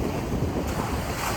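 Surf washes at the water's edge on Stone Town beach in Zanzibar, a steady close rush mixed with heavy wind buffeting the microphone.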